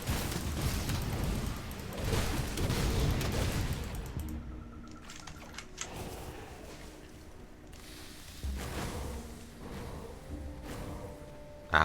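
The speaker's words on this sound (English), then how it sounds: "Random spore explosions." Spore explosions burst in the video game Grim Dawn, a dense crackling volley of booms in the first few seconds, then sparser, quieter pops and rumbles amid game effects.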